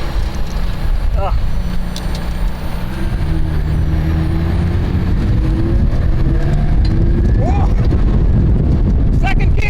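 McLaren 675LT sports car driving hard, its engine droning loudly under heavy wind noise with a rising pitch sweep as it shifts into second gear, gravel and rocks clattering around it while excited voices speak over it.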